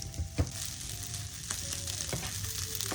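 An egg and garlic frying in a hot pan, a steady, close crackling sizzle with a few soft stirring knocks and taps early on.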